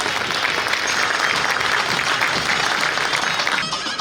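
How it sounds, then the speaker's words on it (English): Sustained, full applause from a large audience at a Kerala Samajam 50th golden jubilee celebration in New York, loud and even from start to finish, with no voices over it. "Once again, let's celebrate by giving a round of applause, a very warm round of applause, please."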